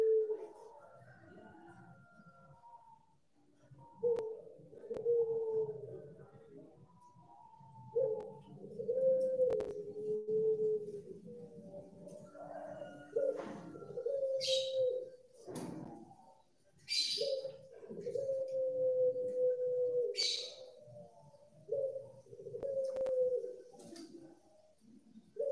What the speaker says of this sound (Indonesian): suara-suara burung yang dapat kita dengarkan